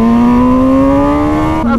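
A 2020 MV Agusta Brutale 1000 RR super naked motorcycle engine revs hard under acceleration, its steady, rising harmonic drone loud and close before briefly dipping near the end.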